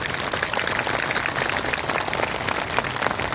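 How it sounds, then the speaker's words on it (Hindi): A crowd at a religious celebration claps loudly together, a dense, continuous burst of applause lasting a few seconds. "और एक बार ताली बजाइए जोर से"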